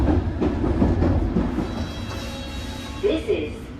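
A London Underground Hammersmith and City Line train bound for Barking rumbles and rattles steadily along the track, with a brief voice rising over the noise near the end.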